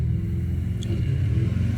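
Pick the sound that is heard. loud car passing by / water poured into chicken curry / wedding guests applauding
loud car passing by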